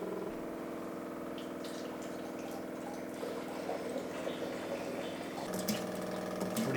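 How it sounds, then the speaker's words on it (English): Maple sap siphons from one tank into another as a steady, quiet stream of trickling liquid that runs on without a break, with faint drips and small knocks near the end. "We're just siphoning from one tank into the other so we don't have to move the intake for the RO machine"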